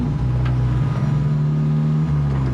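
A car engine hums loudly up close, its pitch rising and dipping briefly as it revs, with no talking.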